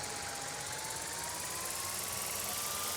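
Steady buzzing whine of a small drone in flight in Life is Strange, a constant close rotor hum with a slowly rising pitch, unbroken throughout.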